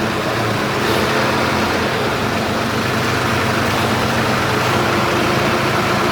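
A Deutz tractor engine runs in second gear with the throttle set to 10, giving a loud, dense, steady rumble with little variation throughout.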